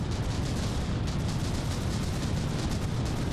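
Battleship guns firing in the From the Depths game: a dense, continuous barrage of rapid booming shots blending into a roaring rumble, loud and unbroken throughout.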